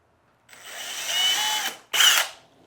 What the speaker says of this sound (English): I'm gonna drill my hole using this Craig drill block